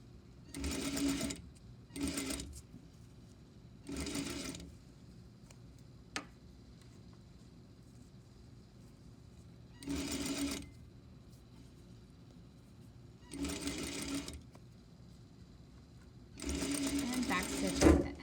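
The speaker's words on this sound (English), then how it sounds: "Or you can just send it through the machine and just see how it turns out." Domestic sewing machine running a gathered seam through fabric in several short bursts of stitching, each a few seconds long, separated by quiet pauses.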